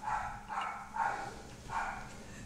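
A small dog barks four times at a distance, faint yips in an uneven rhythm over a low background hum.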